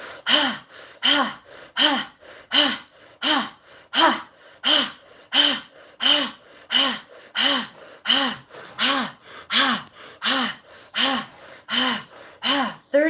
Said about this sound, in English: It's just 2 minutes of breathing.